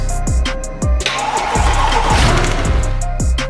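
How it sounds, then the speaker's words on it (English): A salvaged Mercedes C63 engine cranks and catches with a series of sharp metallic knocks and thumps, then runs with a harsh, rattling roar. "I just heard a very metallic knocking, tapping noise."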